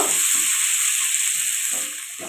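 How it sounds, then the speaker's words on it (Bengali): Chopped onions fry in a pan with a loud, steady hiss, while a few dull thuds and scrapes of stirring sound underneath, close up and without voices. "এবার এর মধ্যে দেব কুচি রাখা পেঁয়াজ পেঁয়াজগুলো একটু কষিয়ে নেব"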